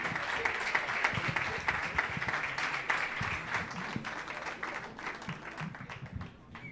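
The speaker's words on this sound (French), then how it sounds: "Merci de l'applaudir, oui." Applause from a crowd, dense clapping that holds steady for several seconds before thinning out toward the end.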